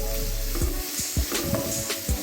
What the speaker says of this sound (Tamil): மிக்ஸ் பண்ணி வச்சுக்கலாம். கொஞ்சம் நேரம் வதங்கட்டும்.